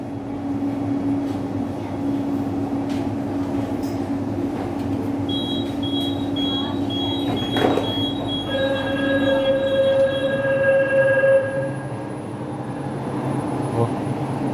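A Jakarta LRT light rail train rolls into Pegangsaan Dua terminal station with a steady rumble, and its wheels squeal in high, sustained tones as it slows before the noise eases.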